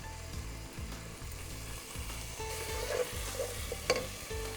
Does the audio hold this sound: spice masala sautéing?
yes